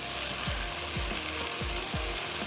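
Garlic, ginger, green onion and fried chillies cooking in chili oil, a continuous close sizzle broken by four evenly spaced low scraping strokes of stirring.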